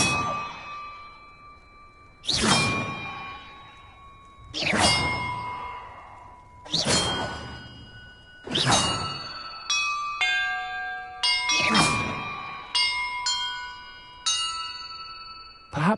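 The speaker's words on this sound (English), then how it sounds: "Perhaps the map contains clues about the order I'm supposed to ring the bells in." Bells ringing in a Harry Potter video game, six or seven loud resonant strikes spaced about two seconds apart, each ringing out with a long decaying tone, later strikes overlapping at different pitches, with no talk.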